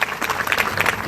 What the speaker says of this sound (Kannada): ಜೋರಾದ ಚಪ್ಪಾಳೆ ಮೂಲಕ ಅವ್ರಿಗೆ ಕೂಡ ಧನ್ಯವಾದಗಳನ್ನು ಸಲ್ಲಿಸ್ತಾರೆ.